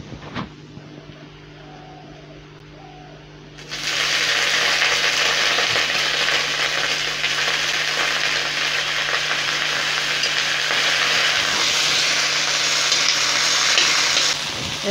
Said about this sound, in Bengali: পেঁয়াজটা এখন একটু লাল লাল হয়ে গেছে, এখন এগুলা শাবলাটা ছেড়ে দেবো।